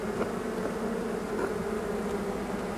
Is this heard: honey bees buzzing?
yes